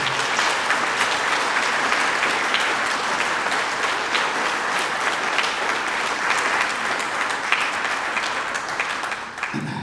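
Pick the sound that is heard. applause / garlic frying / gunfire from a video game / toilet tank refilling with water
applause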